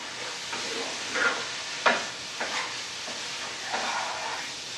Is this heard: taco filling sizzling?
yes